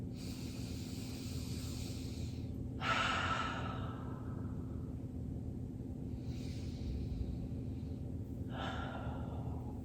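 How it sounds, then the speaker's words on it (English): Slow, deep yoga breaths fill a calm session: long airy inhales and exhales, close and steady, with a few sharper whooshing breaths rising above a constant low background hum. "Two more deep breaths here"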